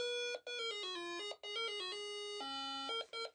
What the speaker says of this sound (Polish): Będzie ten fajny dzwonek.